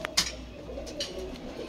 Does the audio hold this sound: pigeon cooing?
yes